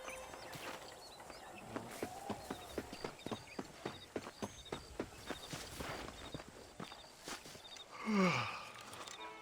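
Horse hooves clip-clop steadily while riding in the video game Red Dead Redemption, a long run of evenly spaced, close hoofbeats with no talk, ending in a brief louder swell.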